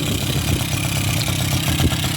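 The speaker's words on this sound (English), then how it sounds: "And it's idling." Suzuki LT50 quad, left sitting outside for years, idles steadily with a rapid, even putter and some mechanical clatter, close and fairly loud throughout.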